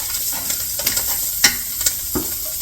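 Sausage sizzles steadily in a hot pan while a utensil stirs it, and several sharp scrapes and clicks break through the continuous close frying hiss.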